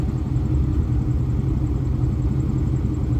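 A 1995 Mustang with an SVE Mongoose shifter and brass bushing cruises along, its engine giving a steady mid-pitched rumble mixed with road noise, constant and close throughout.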